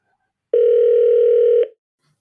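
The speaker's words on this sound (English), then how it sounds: "I might add a phone ringing sound in there" An electronic telephone tone sounds once as a single steady, loud beep lasting just over a second before cutting off, alone against silence.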